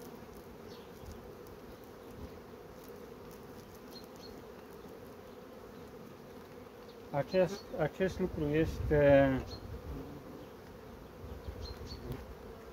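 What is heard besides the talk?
honeybees buzzing at the hive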